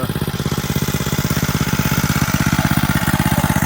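Small drift trike engine running steadily at close range, a rapid pulsing mechanical chug that holds a constant rhythm and grows slightly louder toward the end as the throttle rises.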